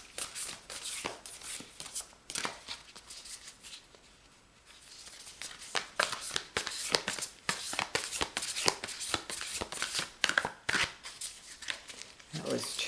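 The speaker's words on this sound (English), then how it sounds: "I will shuffle 3 more times" A deck of tarot cards is riffled and shuffled by hand in repeated bursts of crisp flapping and ruffling, close and fairly quiet, with a brief lull partway through and a voice speaking softly between shuffles.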